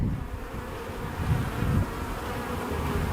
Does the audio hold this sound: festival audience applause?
no